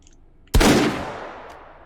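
A single sharp, loud stun rifle shot rings out in a VR video game, followed by a lingering decaying tail, with near silence before it.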